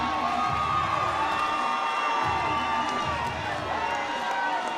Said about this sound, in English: Crowd showing their approval.